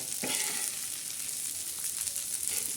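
A kurdai crumble made from wheat fries in a pan while being stirred, giving a steady close sizzle and hiss with faint scraping and no talk.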